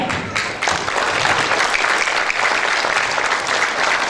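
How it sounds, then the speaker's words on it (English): At a Zo culture show in Melbourne, an audience breaks into a big round of applause, a thick continuous wash of clapping that stays loud and even throughout, with no talk over it. "let us give a big round of applause to Chin Community Victoria"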